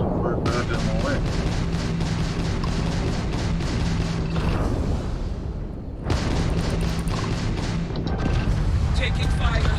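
Sustained gunfire and explosions from a Starfield firefight, loud and dense with continuous rattling bursts and booms, briefly dropping out before resuming with a voice talking over it.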